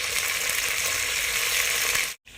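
Onions with green chillies fry in hot oil for a vegetable pulao, making a steady, even sizzle at close range that cuts out abruptly near the end.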